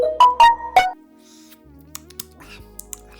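A few sharp clicks and snaps up close from a magnetic fidget stick, followed by quieter scattered ticks and small clacks of hard magnetic pieces meeting.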